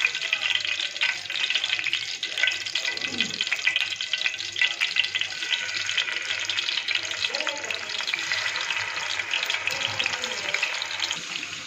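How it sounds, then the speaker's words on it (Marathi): Paneer frying in hot oil in a pan gives a steady, dense, close sizzle that runs unbroken throughout, with faint stirring movements underneath. "इकडे आता आपल्याला पनीर तळून घ्यायचे"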